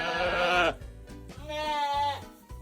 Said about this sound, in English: this goat starts making some of the strangest noises you'll hear from a farm animal.